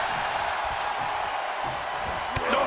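A wrestling arena crowd cheers and roars as a steady, distant wash of noise with a few louder whoops near the end.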